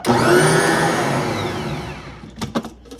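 An electric stand mixer kneads bread dough made with fresh-milled flour, its motor giving a steady close whine that cuts off after about two seconds, followed by a few light knocks and clatters.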